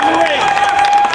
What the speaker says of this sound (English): You hear a Joe chant from this crowd.